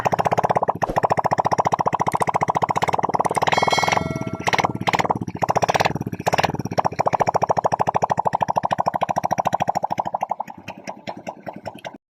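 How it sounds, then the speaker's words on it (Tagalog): A flood-damaged Honda XRM 125 motorcycle runs with its muffler and air cleaner removed, giving a loud, rapid, raw popping chug close by that stumbles and fades unevenly toward the end. "So yun na guys, umandar na ang motor."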